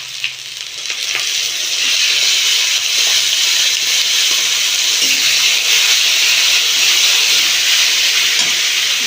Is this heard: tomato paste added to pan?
yes